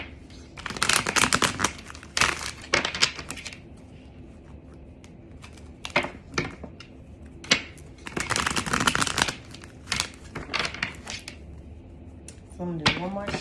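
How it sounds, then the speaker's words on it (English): Tarot cards are shuffled by hand in repeated crisp riffling bursts, close and fairly loud, separated by brief quiet pauses, with no voices. "So I'm going to do one more shuffle."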